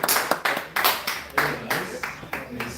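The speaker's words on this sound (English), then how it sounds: "As he's standing up, we'll keep clapping." Seminar audience members clap in a sharp, slightly uneven rhythm of about ten distinct claps, moderately close and fairly loud. Faint talk sits underneath.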